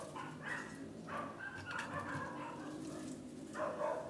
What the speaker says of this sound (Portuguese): tem uma cachorrada aqui